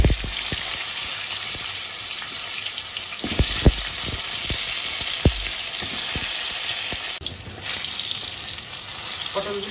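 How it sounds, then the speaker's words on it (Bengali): Pointed gourd (potol) pieces deep-fry in a kadai of oil with a little turmeric, giving a steady hissing sizzle with a few sharp pops and clinks, heard up close with no speech. "একবারে ডিপ ফ্রাই করে ভেজে নেব।"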